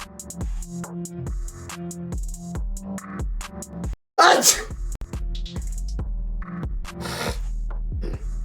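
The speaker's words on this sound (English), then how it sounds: "that was a vicious ass sneeze" A single loud, explosive sneeze bursts out midway over quiet background music, followed shortly by a second breathy outburst.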